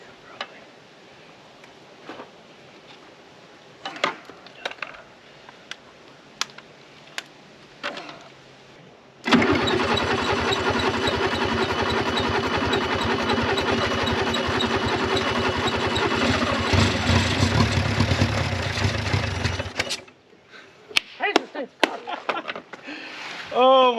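A long-abandoned Renault car engine fires up and runs rough for about ten seconds, loud and uneven with a ragged, chugging pulse, after scattered clicks and ticks and before sputtering off.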